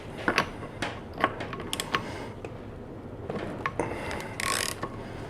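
A ratchet clicks in short, uneven bursts while loosening a large nut on a Lambretta scooter during brake disassembly, close and fairly quiet with a few sharper metallic ticks and no talk.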